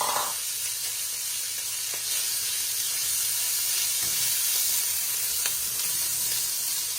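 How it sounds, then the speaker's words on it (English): Ham frying in olive oil in a pan gives a steady, close sizzle, a continuous bright hiss with small crackles and no talking. "drizzle a little bit of olive oil. And then you're gonna put the ham in it"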